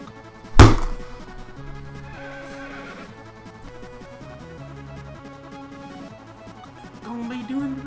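A loud, sharp horse neigh bursts out near the start inside the Hamtaro Ham-Ham Games video game, then fades under steady game music and light clip-clop sounds.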